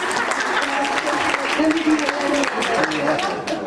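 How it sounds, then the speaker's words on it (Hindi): An audience at an International Women's Day event held by a social organisation applauds, with steady crowd clapping running under an emcee's voice. "पुरुषों के लिए तालियां बजाइए भाई"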